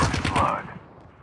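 A burst of automatic gunfire in Call of Duty Mobile's battle royale rattles out rapidly at close range and is loud for about half a second, then trails off into a quiet decay.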